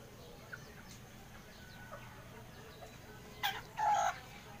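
Serama chickens cluck faintly in a quiet coop, scattered soft calls before a louder burst of clucking near the end.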